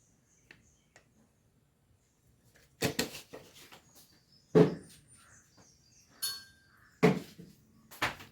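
A spoon stirring papaya curry with masala in a pot: a few sharp metallic clinks and scrapes in separate bursts, close and quiet between them, with no talk.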